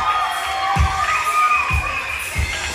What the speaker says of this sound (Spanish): El aplauso para Sandra.